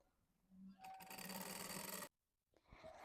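A sewing machine stitches the waist seam of a summer sundress in one steady, fast whirring run of about a second and a half, then stops before starting again briefly; close and clear with no talk.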